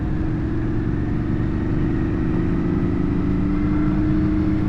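Steady, throaty V-twin engine drone of a Kawasaki VN900 Custom with a deep pulsing beat, close and continuous, holding a constant load as the motorcycle pulls along out of a corner.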